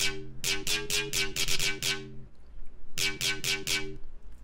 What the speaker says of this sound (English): this you can hear is sort of like that main like high-end bass